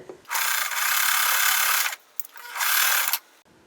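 A sewing machine stitching a quilt block in two close bursts of fast, even whirring, the first longer than the second, separated by a short pause.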